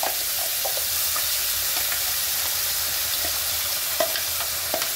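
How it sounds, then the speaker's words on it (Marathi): Mustard seeds and ground masala hit hot oil over a low gas flame for a spicy drumstick curry, producing a loud, continuous sizzle with occasional pops and a few scraping stirs, no voices. "मोहरी टाकल्यावर लगेच आपल्याला मसाला वाटलेला तो टाकायचा।"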